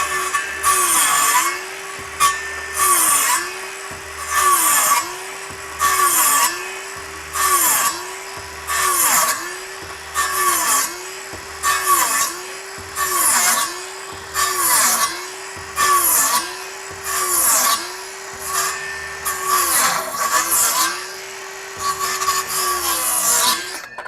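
A power saw cuts repeatedly through wood framing at a builders' challenge, about sixteen loud whining bursts in a steady rhythm, each rising to full speed and dropping back between cuts, close and dominant.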